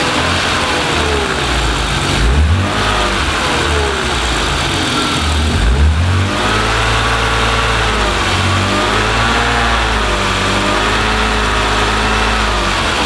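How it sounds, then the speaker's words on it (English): A BMW E36/E30 engine runs steadily nearby after an aluminium radiator install, idling with a couple of brief revs that rise and fall. "so we started the car"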